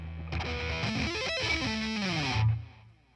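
A distorted electric guitar chord rings out, thick and saturated, sustaining for a few seconds before cutting off.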